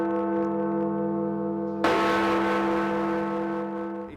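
Cast iron bells of Big Ben at Westminster, London, toll with a sustained, loud ring whose overtones linger; a fresh strike lands partway through and its resonance swells before slowly decaying.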